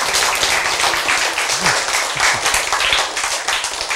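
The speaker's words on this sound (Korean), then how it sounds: "박수!" Applause from an audience at a lecture, a steady dense patter of clapping filling the whole moment at moderate loudness, with a brief voice faintly audible underneath.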